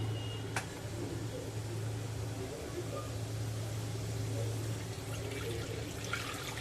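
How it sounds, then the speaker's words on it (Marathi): Water is poured into a cooking pan of sautéed onion and spices for Agri-style stuffed muthe, a faint steady pouring sound over a low background hum in a home kitchen. "त्यामध्ये आपण पाणी घालून घेऊया"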